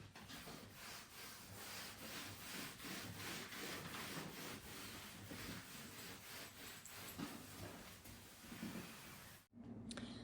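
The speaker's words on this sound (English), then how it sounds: "I'm just going to come back with this towel again and just get it all wet again" A wet towel is rubbed back and forth over wallpaper soaked with removal solution, making close, rhythmic scrubbing and rasping strokes that stop briefly near the end.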